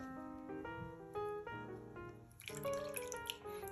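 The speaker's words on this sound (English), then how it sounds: "I'm also gonna add the water here as well." Water poured into a mixing bowl of sauce with soy sauce and brown sugar, a steady trickling and splashing pour running under background music for a few seconds.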